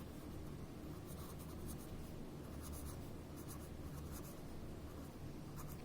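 Writing on a board during a class 10 mathematics lesson, close, rhythmic scratching and tapping strokes in short clusters over a constant background hiss, with no talking.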